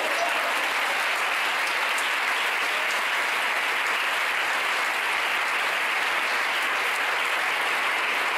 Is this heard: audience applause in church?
yes